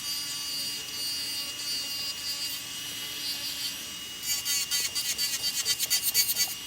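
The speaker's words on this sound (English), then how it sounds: "when I'm filing and sanding on her nails" A carbide bit files and sands down gel nails, a steady whirring rasp that turns into a rhythmic, louder scraping with repeated short strokes in the later half; no talking.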